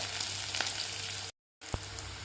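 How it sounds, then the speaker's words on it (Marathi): Curry leaves and green chillies sauté in a pan for sabudana khichdi, giving a steady soft sizzle with a faint stir scrape, broken by a short silent gap and then a small clink. "कढीपत्ता आणि मिरची आपली व्यवस्थित परतून झालेली आहे."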